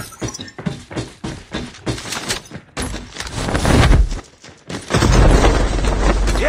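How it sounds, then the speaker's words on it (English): Sustained suppressing gunfire in a video game, with dense bursts of rapid shots and heavy booming impacts that swell loud toward the end, rattling without pause. "Suppressing fire!"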